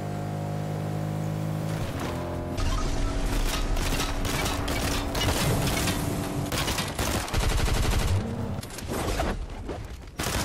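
SMG fire crackles in dense rapid bursts during a fight in the video game Fortnite, loud and continuous for several seconds before easing off, over a droning game background.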